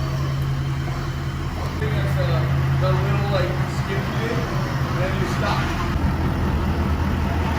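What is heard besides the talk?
custom 6x6 truck driving on its first test drive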